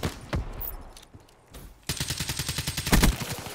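Automatic gunfire in Black Ops 3 multiplayer: after a quieter stretch of scattered game sounds, a long rapid burst of close, loud shots rattles steadily for almost two seconds, with no talking over it.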